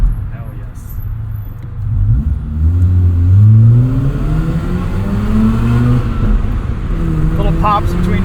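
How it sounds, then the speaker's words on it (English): A 1990 Mazda RX-7 with a rotary engine revs hard through the gears, its engine note rising and falling with small pops between shifts, loud and close from inside the car. "Little pops between shifts."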